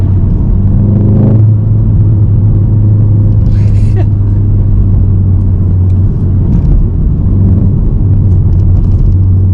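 A Volkswagen Golf R Mk7.5 engine rumbles steadily at low speed with a deep, throaty tone, close and loud, with faint road noise throughout.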